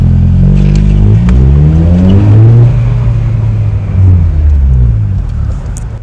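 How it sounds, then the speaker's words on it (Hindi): A car's exhaust revs loudly inside an enclosed garage, deep engine drone rising and falling through several throttle blips with a booming echo, close and continuous with no talking. "यहाँ पे ना साउंड पूरी एको करती है और एग्जॉस्ट की आवाज ना बहुत बढ़िया आती है"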